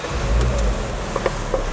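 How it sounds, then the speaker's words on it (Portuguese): A car engine turns over and catches, then settles into a steady low idle with a few light clicks on top, heard up close with no talking. "Vamos funcionar o motor."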